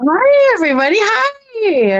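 A 14-year-old female cat gives two loud, close, drawn-out meows with a rising and falling pitch and a brief gap between them.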